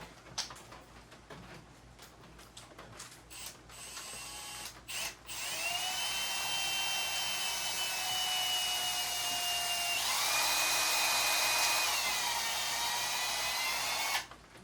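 Several clicks and taps, then a power drill whines steadily for several seconds, pitch shifting slightly as it bores through wood, before stopping.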